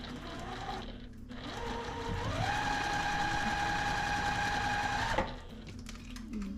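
A sewing machine stitches quilt half-square triangles made from precut fabric, whirring up to a steady fast hum for about three seconds before stopping abruptly, close and alone.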